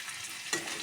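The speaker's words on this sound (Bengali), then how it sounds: "আদাটাকে ভাজা ভাজা করে নেব।" Ginger fries with jackfruit pieces for a vegetarian curry, a soft, steady sizzle in the pan with a sudden stir or spatula scrape midway before the hiss resumes.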